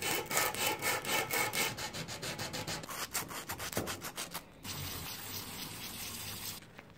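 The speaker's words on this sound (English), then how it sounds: "I think I can clean this up with sandpaper" Sandpaper rubs back and forth against a metal tube in quick rhythmic strokes, close and clear, then shifts to a steadier scraping hiss before stopping.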